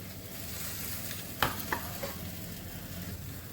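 Ground lentil paste sizzles in a frying pan for dhokar dalna, a constant hiss broken near the middle by two or three sharp spoon clicks as it is stirred.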